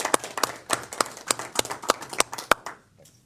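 Attendees at a transit committee meeting applauding: sparse, fairly evenly spaced claps from a small group, moderately close, trailing off after a few seconds.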